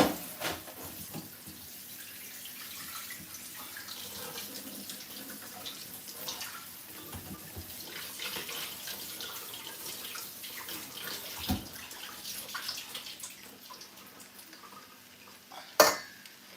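Tap water running into a kitchen sink as beans are rinsed, a steady close splashing stream broken by occasional clinks of a pot or utensil, with no one speaking.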